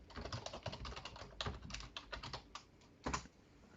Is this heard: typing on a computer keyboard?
yes